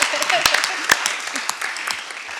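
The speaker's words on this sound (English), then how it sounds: "I would just like to give you a clap." Clapping from an audience at a school district board of trustees meeting, a modest patter of claps with several sharp individual hits over a background of murmuring voices.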